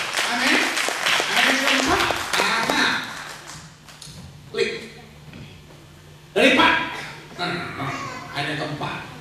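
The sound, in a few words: congregation applause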